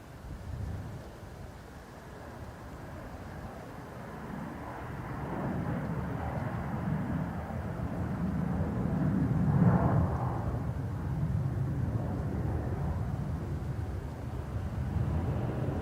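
An Aer Lingus A320neo airliner arriving from Heathrow at Dublin Airport rumbles in from a distance, a broad low roar swelling gradually and staying steady, no talk.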